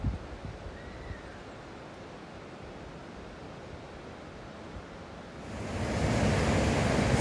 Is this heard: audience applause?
no